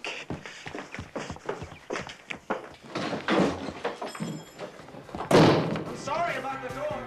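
A door slams shut with a heavy thud among footsteps and movement, followed by a louder bang later, with voices talking around it.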